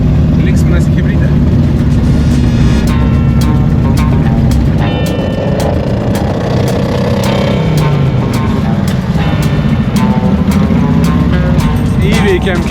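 A Zaporozhets car driving along, its engine giving a loud, steady low rumble throughout with voices talking over it.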